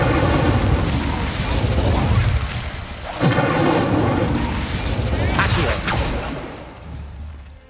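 Casting the Incendio fire spell in Hogwarts Legacy throws out a loud whooshing, booming burst of flame, with a second surge midway, layered under speech and game clamour.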